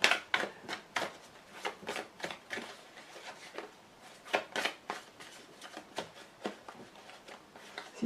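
Lenormand fortune-telling cards being shuffled by hand, a series of crisp papery riffles and slaps in quick irregular bursts, close and fairly faint, with no talk.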